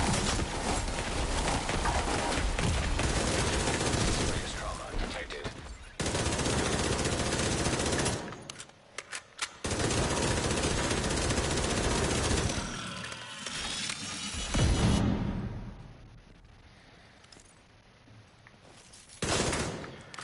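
Rapid automatic gunfire in The Division 2 roars in long sustained bursts, dense and loud, broken by short pauses, scattered single shots and mechanical clatter, with quieter gaps near the end.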